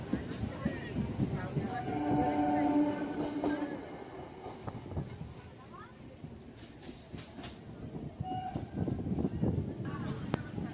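A Shyamnagar to Krishnanagar local train runs along with a steady rumble and rhythmic clatter of the carriages, loud and continuous, while a person talks over it.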